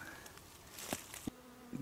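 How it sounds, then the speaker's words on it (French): A bee buzzes faintly nearby in brief bursts among small fir trees during a fir honeydew flow, drifting in and out over quiet outdoor background with a couple of soft clicks. "Donc là on voit une abeille là."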